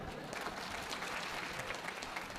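Dense, steady applause from a large audience at a Hindi kavi sammelan (poetry gathering) at Gauri Gopal Ashram, continuous and even for the whole stretch with no break in the clapping.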